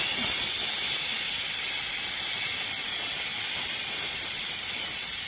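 A pressure cooker at a lakeside camping spot lets out a steady, loud hiss of escaping steam as its whistle releases, continuous and unbroken throughout.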